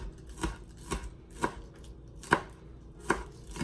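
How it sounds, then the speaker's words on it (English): A knife chops green onions on a cutting board, five sharp thuds at an uneven, unhurried pace, close and clear with no talk. "I'm chopping up some green onions"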